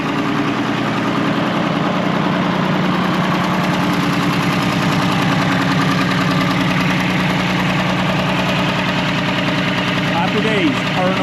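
A tractor engine idles steadily up close, a continuous low rumble with a faint rhythmic knock running unbroken throughout, with no pauses or changes in pace.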